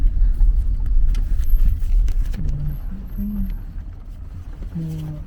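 A car rumbles at low speed while looking for a parking spot near a market area in Cambodia, its engine and road noise steady and close, while people talk over it and a few short horn-like tones sound.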